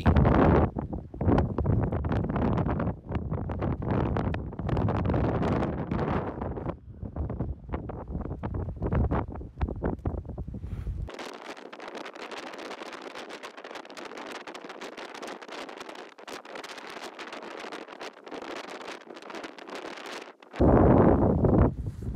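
Cold, strong wind buffets the microphone on a shore where ice drifts with the tide. The roar is loud and unbroken, with the rumble thinning and hissing higher midway through before heavy gusts return. No one speaks.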